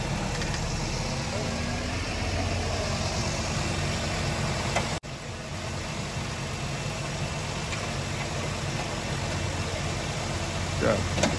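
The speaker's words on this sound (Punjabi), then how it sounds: "ਮਾਸ਼ਾਅੱਲਾ ਸਟਾਰਟ ਹੋ ਗਈ ਗਾੜੀ" A Suzuki Alto car engine running at idle after a head gasket change, a steady, loud, close mechanical drone that holds even throughout, with a brief sharp dropout midway, and voices talking faintly over it.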